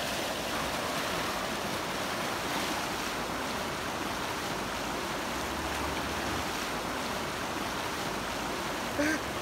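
Fast water in a mountain trout stream rushes in a dense, unbroken roar close by, with a voice faintly speaking over the flow.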